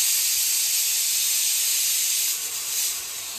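A pressure cooker on a gas stove lets off a loud, steady steam hiss that continues alone for several seconds, dipping slightly near the end.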